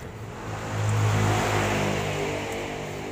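A rough, steady mechanical whirring grind from a worn, dry, rusty air-conditioning compressor pulley bearing in a running car's engine bay, continuous and fairly close, with a slight swell in the middle.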